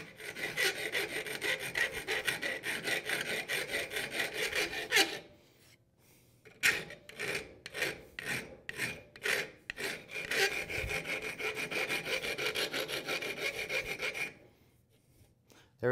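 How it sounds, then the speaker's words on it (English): A metal file smooths hacksaw-cut steel for homemade sliding barn-door hardware, in long continuous rasping strokes broken by short pauses, then a rapid series of quick strokes, close up with no talk. "now I'm going to come in with the file and get it cleaned up"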